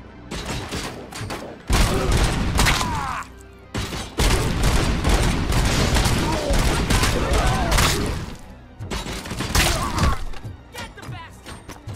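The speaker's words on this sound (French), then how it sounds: "Ah, ça me tire dans le dos" Bursts of enemy gunfire in the video game RoboCop Rogue City, loud volleys with shattering impacts and booms that come in several heavy waves separated by short lulls.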